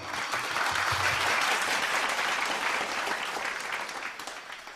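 Audience at a partners' appreciation ceremony applauding, a sustained, even roar of many hands clapping at moderate distance that swells early and eases slightly toward the end, with no speech.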